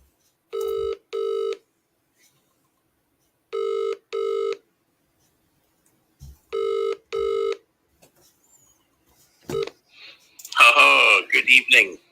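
A telephone rings in three paired bursts of electronic trilling on a live radio phone-in show, followed by a voice answering the call.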